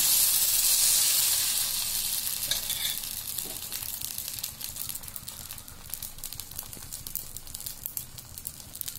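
Watermelon dosa batter sizzles and hisses loudly on a hot pan, a steady close frying crackle that eases slightly in volume as it goes on, with no talking.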